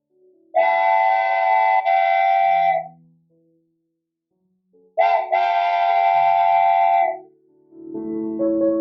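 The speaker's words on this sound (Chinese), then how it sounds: "火车来了！" Train horn sounding on the Singapore rail corridor as a train approaches: two long, loud, steady blasts separated by a pause, followed by a lower rumble starting at the end.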